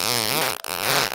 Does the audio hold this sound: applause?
no